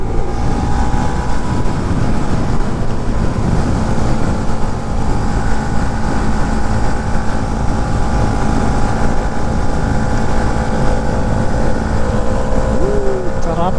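Wind buffets a microphone on a Can-Am Spyder ride in the Philippines: a steady, loud, rushing roar that runs the whole time, blended with road and engine drone.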